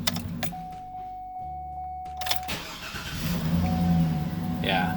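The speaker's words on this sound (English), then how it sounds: "It sounds much stronger when it starts now." A GM truck engine from the 2007–2014 range cranks and fires after a negative battery cable replacement, with a brief starter whir followed by a steady idle that grows louder and fuller, up close.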